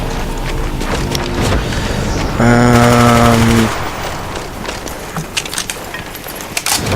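Rapid gunfire rattles through a round of Black Ops Zombies, dense bursts of shots over game noise. A loud tonal chime briefly rises through the middle, and scattered sharper cracks follow toward the end.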